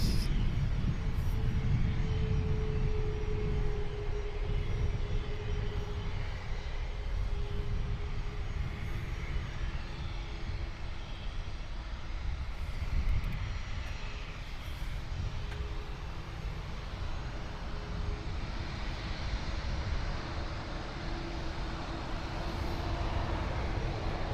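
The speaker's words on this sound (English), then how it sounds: "Dreamliner 787-8 going to Los Angeles." A Boeing 787-8 Dreamliner jet at Toronto airport produces a steady, loud, broad rumbling roar with a faint whine on top, sustained throughout with no talk.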